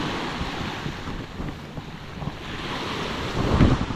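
Rough surf rolls onto a white-sand beach, a continuous wash of breaking waves mixed with buffeting wind on the microphone, swelling louder near the end with no talking.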